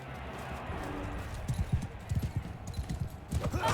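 Hooves clip-clop in an irregular gallop during a Mount & Blade II Bannerlord battle, starting partway in and growing denser and louder toward the end over a constant roar of battlefield noise.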